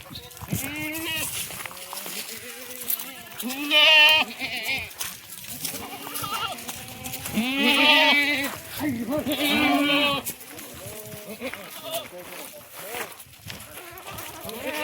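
Goats at a livestock market bleat repeatedly, with several loud, wavering calls rising over steady nearby conversation among buyers and sellers.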